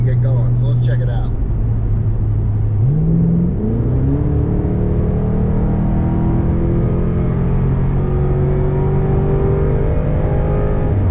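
A 2003-04 Mercury Marauder, a 4,100-pound V8 sedan, accelerates from a roll; the loud, close engine note climbs steadily in pitch, stepping through a gear change as it pulls away.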